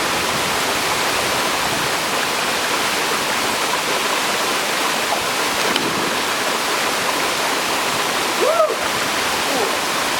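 Waterfall in Shenandoah National Park, a loud steady roar of rushing water filling the whole scene, with a brief faint human sound near the end.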